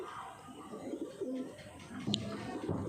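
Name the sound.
pigeon cooing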